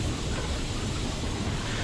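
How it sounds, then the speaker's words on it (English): Steam locomotive 44871 drifting with only a breath of steam on, heard from the footplate as a steady, close, broadband rumble and hiss with faint rail clatter throughout. "Steve keeps a breath of steam on to allow the locomotive to drift"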